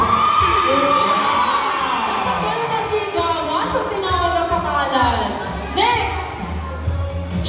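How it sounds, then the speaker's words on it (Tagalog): A crowd at a community dance gathering shouts and cheers as a group's name is called, with children's voices and whoops mixed into loud, sustained chatter that swells again near the end. "Dapat gano'n ang sigawan pag tinawag ang pangalan"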